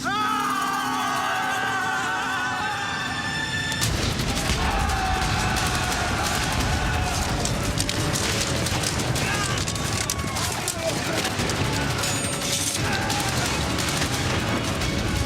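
A dramatized battle fills the air with dense gunfire and booming artillery. Quieter tones open the scene, then rapid shots and blasts begin and continue without pause, with voices shouting over the din.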